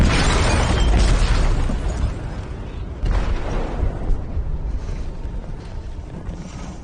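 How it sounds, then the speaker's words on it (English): Explosion in a ship's hold in the video game Detroit: Become Human, a deep booming blast followed by low rumbling and a second heavy surge that slowly fades, with no voices. "They detonated an explosive in the hold."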